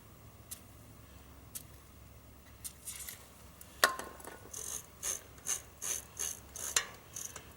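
A bicycle's rear freewheel on an Adventure Partner bike ratchets as the wheel spins after being sprayed, a soft quiet ticking that turns into a run of sharper, regular clicking bursts with no voices.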